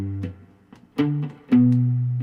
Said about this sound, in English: Now I'm going to use some palm muting here